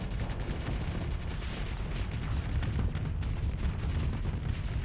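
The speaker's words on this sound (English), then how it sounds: "Shooting my torpedoes down." A ship's point defense guns in the space combat game Starsector fire continuously at incoming torpedoes, a dense rumbling barrage of rapid shots and booms that never lets up.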